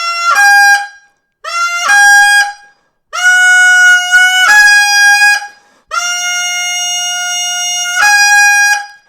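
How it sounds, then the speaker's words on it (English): Goose call blown by hand in four long bursts, each a two-note honk that breaks from a low note up to a high one, loud and close with short silences between and no talking. "you're learning how to control the goose call, whatever you want it to do"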